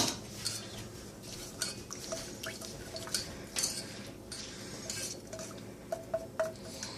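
Spoon scrapes and clinks against a metal pot while hard candy is stirred into water on low heat, quiet repeated strokes in an irregular rhythm with faint bubbling beneath.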